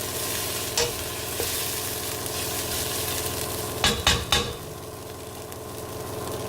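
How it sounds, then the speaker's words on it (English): Onions fry in a pan with a steady, close sizzle, while a utensil stirs and scrapes against the pan now and then. A few sharper knocks cluster near the end, and no one talks. "So we'll keep stirring it intermittently to prevent it from sticking to the bottom."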